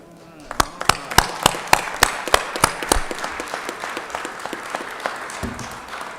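Scattered, distinct claps ring out in a state legislative chamber honoring Georgia Lions club members in the balcony, a handful of sharp, echoing hand claps at first, then thickening into softer general applause that fades.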